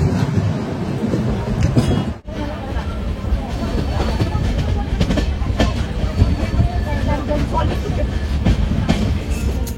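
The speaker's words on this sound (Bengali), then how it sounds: "সাঁতরাগাছি হয়ে এই ট্রেন নিজের খেয়ালে ছুটে চলল বালেশ্বরের উদ্দেশ্যে" A moving train heading from Shalimar station toward Balasore gives a loud, steady rolling rumble with faint rhythmic clatter and one brief dip in level near the start, continuing throughout.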